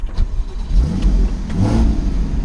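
A Porsche Cayman 981 with a sports exhaust starts and revs up loudly and close, a deep rumble with rising bursts of throttle, no voices.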